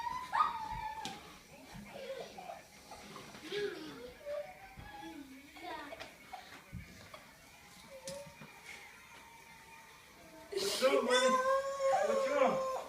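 A goldendoodle puppy gives high, thin whimpers and whines near the listener, with a voice and adult speech around it and a louder burst of excited voices toward the end.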